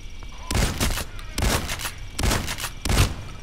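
Gunfire from the video game Payday comes in four loud bursts about a second apart, each sharp and close, over a steady low background hum.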